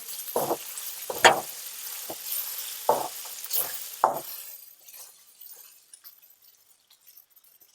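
Dried Bombay duck fish is stir-fried in a pan, giving short sizzling bursts and scraping clinks of a spoon against metal in an irregular rhythm, fading to near quiet toward the end.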